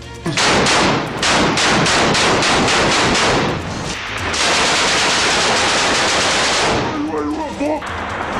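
Heavy gunfire during fighting in Jabalia, Gaza: loud, rapid bursts of automatic fire crackle almost without pause, with a brief lull midway before dense shooting resumes, and faint voices surface near the end.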